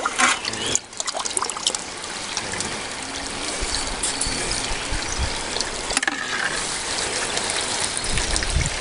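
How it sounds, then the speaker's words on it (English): Water carrying beach sand runs through a sluice lined with silicone mats, a continuous loud trickling and gushing wash with a couple of brief dips. "I can just load it up and it'll just sit there and it doesn't overload the sluice."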